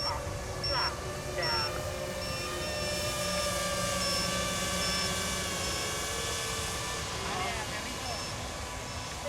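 A Freewing Vulcan RC model jet flies in to land, its steady whining ducted-fan hum continuous throughout over outdoor ambience, with people talking over it.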